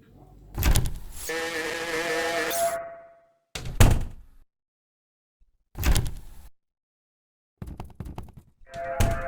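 Heavy doors in the Baldi's Basics Reflexes mod game slam and thunk several times, a long groaning swing followed by separate loud bangs with silent gaps between them, with no talking.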